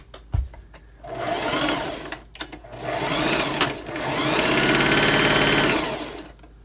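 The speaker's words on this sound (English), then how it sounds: "we're just gonna sew the length" A sewing machine runs a straight stitch along salvaged fabric, its close, steady mechanical whir running in two long stretches with a short pause and a few clicks between them.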